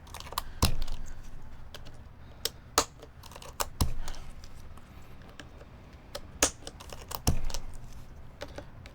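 Typing on a Topre keyboard in a Deskies board, with irregular bursts of muted, thocky keystrokes close up and several louder sharp key hits scattered through.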